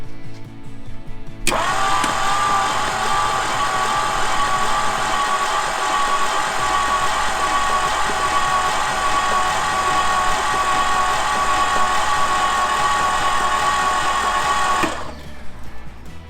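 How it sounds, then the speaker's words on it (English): A 1966 Galaxie's 390 big block is cranked over with its spark plugs out, giving a steady, loud whirring drone that runs about thirteen seconds without a break and then stops abruptly. "turn the motor over whilst the spark plugs are out"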